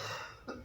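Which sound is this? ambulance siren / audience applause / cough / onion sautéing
cough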